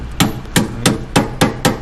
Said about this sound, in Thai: นี่ช่างก็กำลังจะเจาะฟุกตะกั่ว